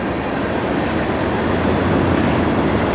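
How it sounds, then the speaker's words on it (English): A train rumbles past close by, a steady low roar of rolling wagons filling the whole stretch with no break. "We got a train going by"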